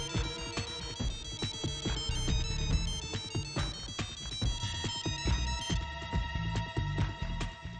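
Phone ringtone playing a bright, repeating electronic melody with punchy beats, loud and close, alone without any talking.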